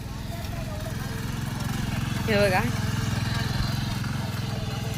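A new tractor's engine drones steadily in a Konkan rice field, a low continuous rumble that runs the whole time while a person talks over it.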